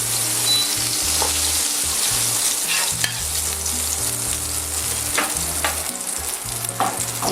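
Sauerkraut galettes with lardons frying in oil and butter, giving a steady, dense sizzle with occasional crackles and light scraping, close and continuous, with no one talking.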